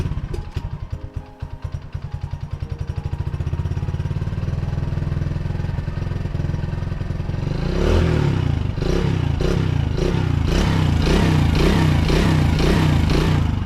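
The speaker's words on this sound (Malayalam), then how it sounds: "ആ ഒരു സൗണ്ട് കേൾപ്പിക്കാൻ വേണ്ടിയിട്ടോ ഈ ഒരു വണ്ടി സ്റ്റാർട്ട് ചെയ്തത്" A Hero Honda Splendor motorcycle engine idles with a fast, uneven putter, then is revved hard in repeated bursts, loud and close.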